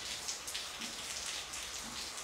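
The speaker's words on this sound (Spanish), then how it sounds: "y ya pueden ver, está lloviendo." Rain falls steadily on a September morning in The Gambia, a continuous close patter of drops with a few louder taps and no voices.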